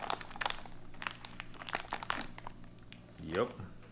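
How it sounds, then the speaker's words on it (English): Retort pouch from a Belarus 24-hour survival ration being ripped open, close crinkling and tearing plastic with crunchy rustles, a voice briefly audible near the end. "It has a Ziploc. Let's go ahead and rip that open."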